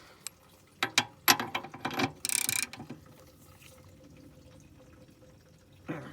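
Ratchet clicks in short, sharp bursts while tightening the oil drain petcock on a 1954 Farmall 300 tractor, followed by a brief metallic rasp, then quiet with a faint tick at the end.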